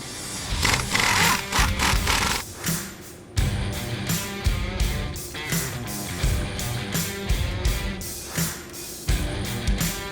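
Strap bolts being removed from the forward drive axle of an electrified truck's drive shaft, heard as loud, close bursts of a whirring power tool with scraping metal, stopping and restarting several times.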